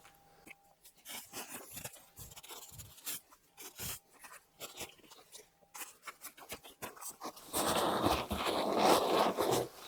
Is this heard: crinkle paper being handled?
yes